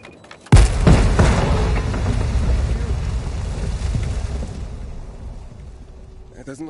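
Explosives detonate in a video game with a sudden loud boom that rolls into a long, rumbling, crackling tail of debris, slowly fading over several seconds.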